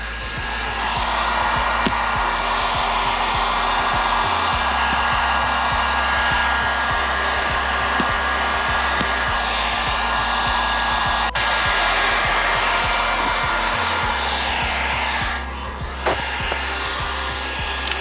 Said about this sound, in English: the heat gun is probably the faster way to do it, and it doesn't leave any residue